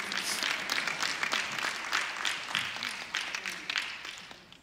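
An audience at an assembly claps together, a dense patter of applause that is moderately loud and fades out gradually over a few seconds.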